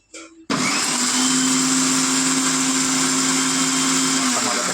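After a brief quiet knock, an electric mixie starts grinding Andhra-style gongura chutney, a loud continuous high-pitched motor whir with a steady hum that holds evenly to the end.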